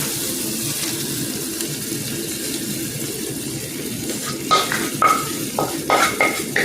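Mackerel goes into a pot of sizzling gravy and is stirred, a steady frying hiss under louder scraping and clinking of a utensil against the pot in the final seconds, close by with no voices.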